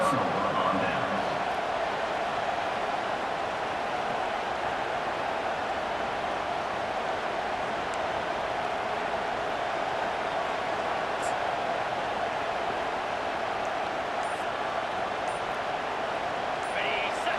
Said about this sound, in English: They've got him pinned back, and they're trying to rattle their eardrums. Listen to this crowd.